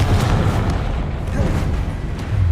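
A Confringo spell explosion bursts in Hogwarts Legacy, heard as booming low-heavy thumps with a couple of sharper pops across a short, continuously loud stretch of game noise.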